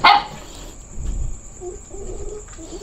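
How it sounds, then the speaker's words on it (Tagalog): A dog barks once or twice at a moderate distance, with a sharp sound at the start followed by softer yips against a faint steady whine. "Hindi mapakali yung aso ah. May aso kasi dyan mga idol."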